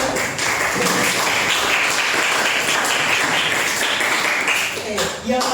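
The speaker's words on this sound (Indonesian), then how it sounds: "Tepuk tangan untuk kelompok 2" A middle-school classroom claps for a group of students, a dense, continuous burst of applause that holds steady for several seconds before easing near the end, with voices mixed in.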